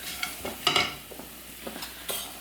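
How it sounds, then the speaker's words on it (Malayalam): Garam masala being stirred in a hot pan, a soft low sizzle with a few quick scraping and clinking strokes of a spoon, fairly close. "ഇടയ്ക്ക് നമ്മുടെ ഗരം മസാല ഒന്ന് ഇളക്കി കൊടുക്കാം."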